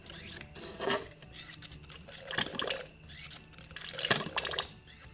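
Old differential fluid from a Honda Pilot with VTM-4 is pumped through a rubber tube into a container, giving faint, irregular trickling and splashing in several short surges.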